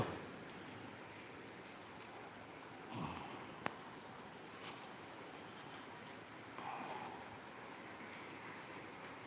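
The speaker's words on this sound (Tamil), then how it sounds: "மழை பெய்யுதனால ரூமுக்கு போக முடியாது நிற்கிறேன்" Rain falls steadily in Kodaikanal, a continuous broadband hiss of drops, fairly distant and even, with a few faint knocks in the background.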